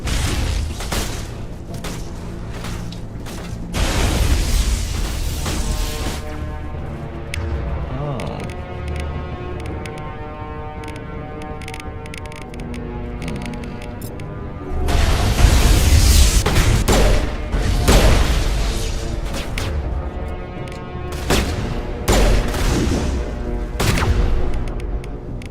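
Explosions and gunfire from the Mass Effect video game, with sniper fire and exploding boxes, rumble in dense overlapping bursts across the whole stretch, loudest around the middle and later, mixed with game music and voices talking throughout.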